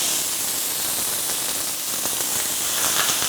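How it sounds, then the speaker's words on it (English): Ground meat browning in olive oil in a pan: a steady, broad sizzle and hiss, close and continuous, with faint crackles and no talking. "We're going to start browning up our meat."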